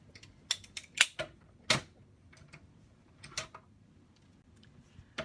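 Paper being rolled through a die cutting machine for card making gives a series of sharp, irregular clicks and snaps, close by and fairly quiet, with short gaps between them and no talk over them.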